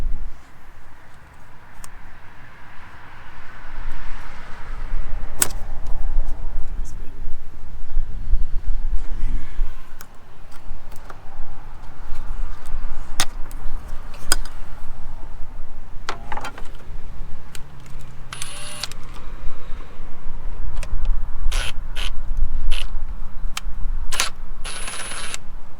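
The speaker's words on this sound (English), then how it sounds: "So let's get out our tools and break open some bolts." Tools at work on the intake of a 2006 Mustang GT make metallic clinks and ratcheting clicks, scattered and close, over a steady background rumble.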